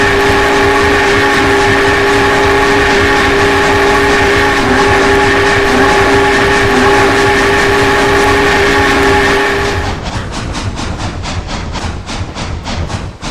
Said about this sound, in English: And the whistle is really good.